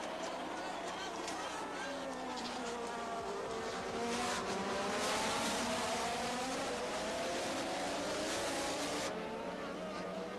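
Formula 1 race cars roar away from the start of a 1987 Grand Prix, a dense sustained engine howl that swells midway, with a commentator talking over it.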